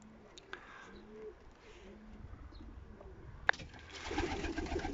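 Pigeons coo softly in a loft, with several low, rounded calls repeating near the start. A sharp knock follows, then a louder rustling, shuffling noise builds toward the end.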